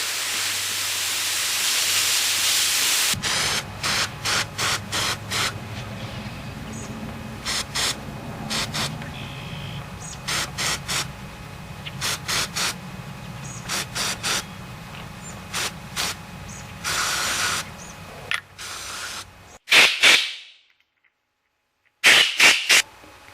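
Pressurized air hisses out through leaking pipe threads during a thread sealer test, a steady loud hiss broken into many rapid pulsing bursts, ending with a short surge and then near silence.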